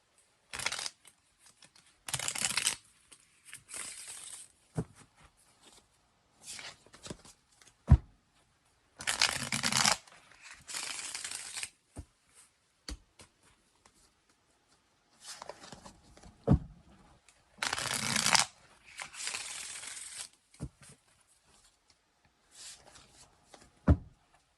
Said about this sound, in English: I think this is about 8 shuffles.